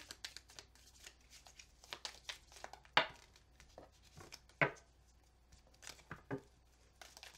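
Rapid papery riffles and soft slaps of a large deck of tarot cards being shuffled, in short irregular bursts with a couple of sharper snaps, close by and fairly quiet.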